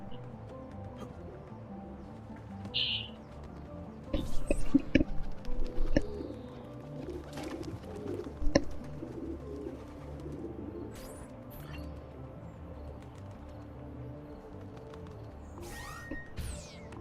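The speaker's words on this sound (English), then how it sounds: "Pigeon coop." Pigeons coo at a pigeon coop in a video game, soft and somewhat distant, heard over a steady ambient game soundscape with a few louder clatters.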